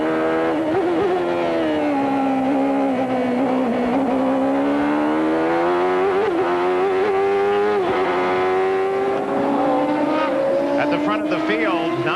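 A 1993 CART IndyCar at Portland International Raceway screams through a fast S-curve in fifth gear at about 175 mph, its engine note sweeping loudly and continuously, with a commentator talking over it.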